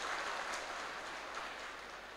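Applause from a large seated audience at a civil-servant swearing-in ceremony in Indramayu, a dense, steady patter of many hands clapping at moderate volume, fading slightly toward the end.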